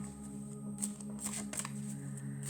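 Tarot cards are shuffled by hand in a few quick riffling bursts, close but quiet, over a faint steady background hum.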